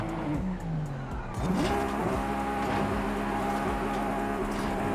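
Tires squeal as a Nissan Skyline with a V8 swap brakes hard in Forza Horizon 5, a loud sustained screech over a droning engine, the pitch sweeping before it settles into a steady howl.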